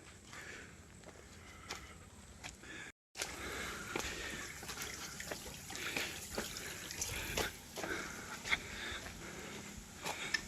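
Quiet, continuous trickle and splash of flowing water from a main water outlet in dense jungle, with scattered drips and light knocks, fairly close, briefly cutting out near the start.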